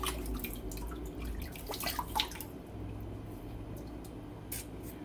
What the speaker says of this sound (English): we're going to go ahead and throw some hot water in our face